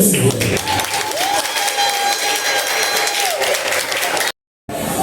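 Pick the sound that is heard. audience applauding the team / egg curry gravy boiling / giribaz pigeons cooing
audience applauding the team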